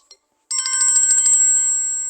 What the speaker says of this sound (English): Most of the ringtones we had on the old phones.